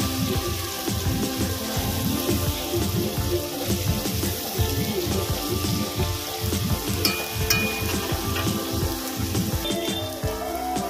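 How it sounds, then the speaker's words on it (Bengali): Chopped onions fry in oil for a restaurant-style mixed fried rice, making a dense, busy crackle and sizzle that stays loud and constant from start to finish. "দেবো কুচিয়ে রাখা পেঁয়াজ, এটা ভালো করে ভেজে নেব।"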